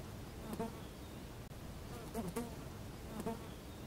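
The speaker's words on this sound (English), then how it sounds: "Kids, this is housefly." A housefly buzzes in short, recurring bursts of whining drone, close and fairly quiet, with brief lulls between passes.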